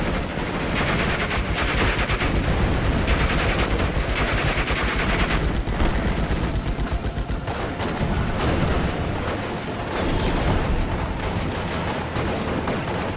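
Artillery and gunfire rage in Steel Division: Normandy 44, a World War II battle: loud, continuous volleys of booming shells and rattling bursts layered over one another for the whole stretch, with no voices.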